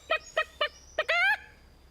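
A chicken clucking on a children's farm show: four short, evenly spaced clucks, then a longer rising squawk, close and clear with no talk over it.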